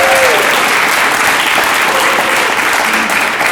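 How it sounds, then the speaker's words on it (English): Conference audience at an Elm programming event breaking into loud, sustained applause, a dense wash of clapping that holds steady throughout. "can we just get one more round of applause for Alex?"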